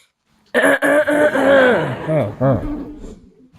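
A man coughs and clears his throat repeatedly in a rough, close burst that trails into a short chuckle, loud against an otherwise quiet room.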